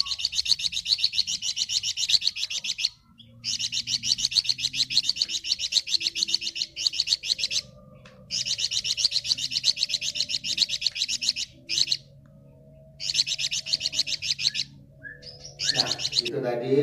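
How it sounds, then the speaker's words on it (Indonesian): A flamboyan songbird sings in long, loud, shrill bursts of rapid trilling phrases separated by brief pauses, clear and close throughout. "Nah, itu tadi suara burung flamboyan"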